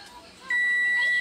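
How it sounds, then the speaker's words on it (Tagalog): An MSI H110M PRO motherboard buzzer sounds one steady, high electronic beep lasting under a second, clear and close over a faint background hum. "buzzer sound"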